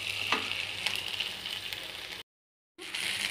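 Onions, green chillies, tomatoes, carrots and okra fry in oil for a mixed vegetable chutney, giving a steady close sizzle that cuts to silence briefly and resumes, with no talk.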